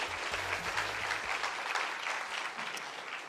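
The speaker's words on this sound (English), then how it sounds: "The applause kept going until she got all the way here." Steady applause from an audience fills a Northern Writers' Awards ceremony, a dense, even clapping that carries on without a break and fades only slightly toward the end.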